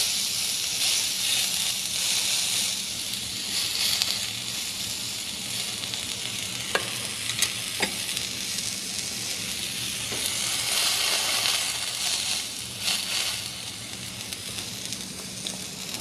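A piece of meat fries in a pan with a continuous close-up sizzle, dotted with a few sharp pops and crackles, and no voices.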